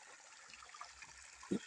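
A small creek flows outdoors, a faint, steady trickle of water with a soft low thump near the end and no speech.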